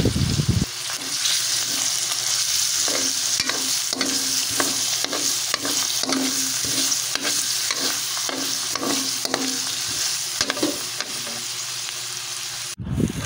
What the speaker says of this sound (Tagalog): atin pong igigisa na ang ating bawang at sibuyas